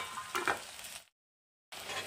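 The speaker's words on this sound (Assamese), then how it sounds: "পিঁয়াজ আৰু জলকীয়াখিনি অলপখিনি ভাজি ল'লোঁ" Onion and green chillies sizzling in hot mustard oil in a kadai, a steady close frying hiss with a few stirring scrapes, cut off by a short silent gap before the sizzle resumes.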